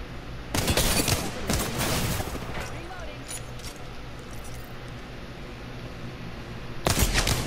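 Gunfire in Apex Legends: a loud, dense burst of rapid shots near the start and another at the end, with quieter game noise in between.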